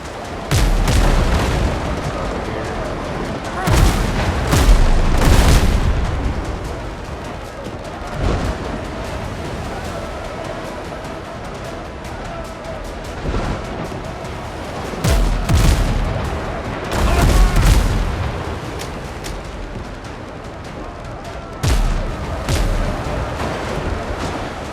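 Ship's front cannons firing in the video game Windrose: a series of heavy booming blasts in irregular clusters, loud and close, with rolling rumble between shots.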